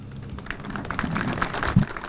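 Audience applause at a Turkish municipal monument unveiling ceremony in Ortahisar, a brief close burst of scattered hand claps.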